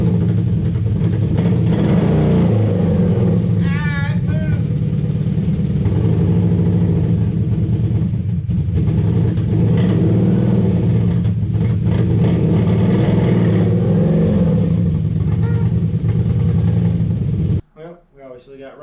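An abandoned 1980s superbike's cold engine runs rough and loud up close, revving unevenly with a sputtering, choking drone before cutting out abruptly near the end.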